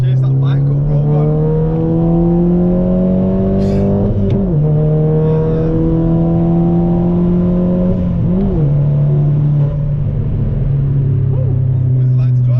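A tuned SEAT Leon Cupra R heard from inside the cabin, its engine droning loud and steady as it pulls hard, with two short dips where gears are shifted quickly before the revs climb again; a voice speaks briefly over it.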